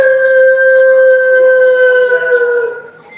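A storyteller's voice imitates a rooster crowing, one long sustained loud call with a steady pitch that tapers off near the end.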